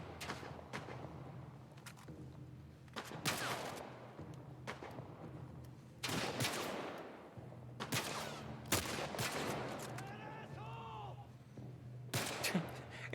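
Bandits firing guns in the video game The Last of Us Part 1, with repeated irregular shots and short bursts, some sharp and close and others duller, spread over a steady background ambience.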